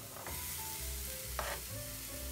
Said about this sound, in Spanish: Agregamos para sofreír los otros ingredientes